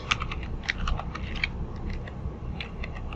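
Steady computer keyboard typing while writing Laravel and Livewire code, a close, continuous patter of key clicks with occasional sharper strikes, no voice.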